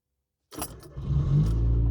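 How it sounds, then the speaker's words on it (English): A Nissan Micra K11 car engine cranks and fires up after silence, catching quickly into a steady close idle. "And now the car should fire up."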